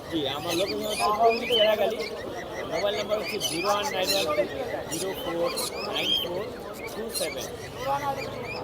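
Many small caged birds chirp and twitter together in a busy, continuous chorus, close by, at the Mirpur-1 bird market in Dhaka, with people talking underneath.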